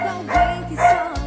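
A small dog barks three times in quick succession, close and fairly loud, in a home setting with a faint steady hum beneath.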